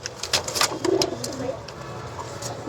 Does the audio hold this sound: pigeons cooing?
yes